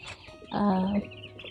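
Chickens on a village poultry farm, where one loud, harmonic cluck or squawk rises for about half a second over a low background of farmyard noise.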